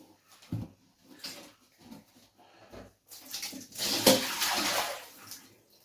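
Water left inside a removed part of an old toilet cistern is poured out, a sudden splashing gush that swells for about two seconds after some quieter handling knocks and clicks, then fades.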